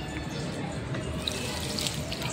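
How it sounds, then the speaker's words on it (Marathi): Water splashes steadily onto potted plants on a home balcony gallery, a continuous broadband pouring and trickling hiss with occasional drips, close and moderately loud, with no talking. "सगळ्या झाडांना पाणी व्यवस्थित घालून घेतलेलं आहे."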